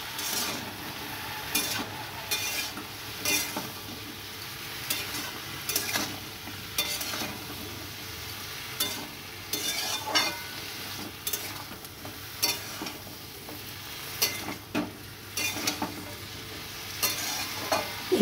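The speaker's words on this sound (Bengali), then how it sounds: "আর দিয়ে দেবো একটু আদা বাটা। দেওয়ার পর আবার নাড়াচাড়া করে নেব।" Curry with turmeric and ginger paste is stirred in a pan, giving a quiet continuous frying sizzle with repeated light spoon scrapes and taps at an uneven rhythm, close by and without talk.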